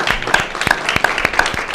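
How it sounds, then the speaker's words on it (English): Applause from a debate audience greeting congressional candidates, with scattered individual claps standing out sharply over a lighter background of clapping, fairly close and loud. "Joe Kelly Levasseur, you can applaud."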